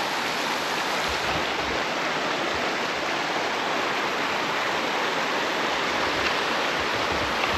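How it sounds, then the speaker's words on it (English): Creek water rushing steadily past a road crossing with debris-choked culverts, a loud, continuous broadband wash close by, with no talk over it. "We hit this creek crossing here"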